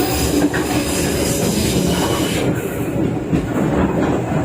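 The Brantas passenger train running on rails near Solo Balapan station, a loud continuous rumble of wheels on track with steady clatter and a brief hiss partway through, heard close from on board.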